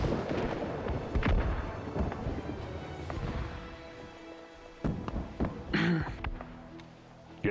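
Cannon fire during a siege war battle in the game New World, heavy booming blasts repeating at irregular intervals amid rumbling battle noise, loud and close.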